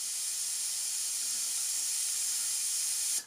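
An airbrush sprays paint with a steady, even hiss of air that runs unbroken for about three seconds, close and fairly loud, then cuts off abruptly.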